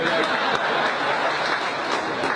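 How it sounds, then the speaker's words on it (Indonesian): An audience claps at a comedy act during the PKS Legislator Summit 2016, producing dense, steady applause that fills the whole stretch with scattered sharper claps and some laughter mixed in. "Silakan kalau mau tepuk tangan"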